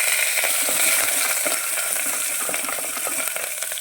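Vegetable biryani ingredients sizzle in hot ghee, a dense, steady crackle and hiss close by with occasional stirring scrapes and no talking.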